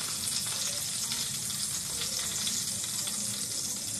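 Cumin seeds and curry leaves sizzle in hot oil in a kadhai, a loud, constant crackling hiss close by that holds steady for several seconds without speech.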